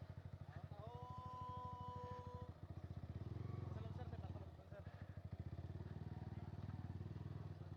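A Yamaha R15 V3 motorcycle engine idles and revs nearby with a steady chugging putter, while people talk over it.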